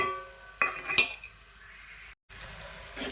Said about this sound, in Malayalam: നല്ലോണം ഇളക്കി നല്ല മൂപ്പിച്ചെടുക്കണം